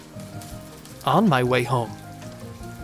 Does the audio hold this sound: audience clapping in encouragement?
no